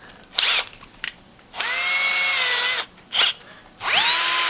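A power drill with a wobbly bit bores guide holes into a new frame for a magnet machine rebuild, whirring in short bursts and then longer runs that spin up and down between pauses, loud and close.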